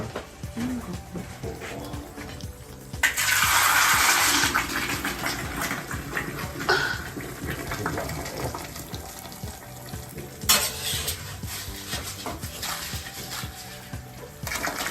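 Hot sugar syrup poured in a kitchen gives a steady hissing, sizzling wash that swells for a few seconds and stays continuous under background noise, with no clear talking.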